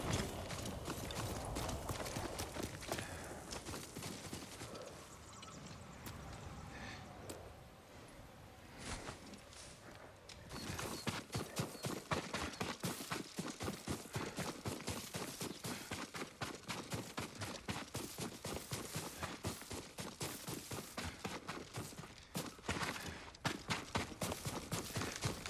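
Horse hooves clip-clop steadily in the Ghost of Tsushima video game, a brisk repeating rhythm of close, loud hoofbeats that grows denser and sharper in the second half, with no talk over them.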